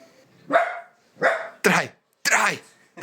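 A few sharp, loud dog barks ring out close by in a series with short pauses between them, from one of several puppies greeted during a road trip to the North Cape.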